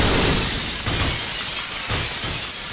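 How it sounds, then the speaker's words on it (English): Glass shattering en masse in the first-person shooter game Black, a loud, dense burst of breaking panes that swells in several overlapping waves and stays bright and crashing throughout. "the glass just shatters en masse, it sounds really cool"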